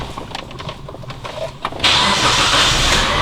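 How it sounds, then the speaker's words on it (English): A 2008 Mitsubishi Lancer GTS is started: a short cranking whir with clicks, then the engine catches and settles into a steady, loud idle. "But what we're gonna do is start the car."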